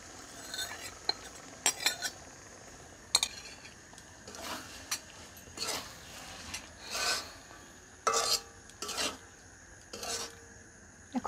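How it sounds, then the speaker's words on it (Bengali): Boiled mutton going into a pot of spices and being stirred, heard as scattered scraping and clinking strokes of a spoon against the pot, irregular and moderately close, with quiet gaps between. "গোস্তগুলো এর মধ্যে দিয়ে দিচ্ছি।"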